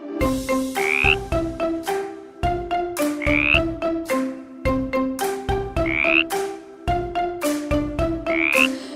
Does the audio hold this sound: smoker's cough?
no